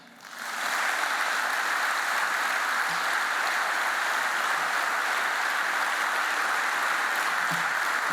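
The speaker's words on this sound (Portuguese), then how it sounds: "todos a merecerem a nossa salva de palmas" Audience applause at a convention, a broad sustained wash of clapping that swells in at the start and holds steady, sounding somewhat distant and hall-like.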